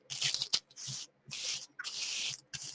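Sanding on a plaster and wax piece comes in several short rasping bursts with brief pauses between strokes, close and fairly quiet, with no talk.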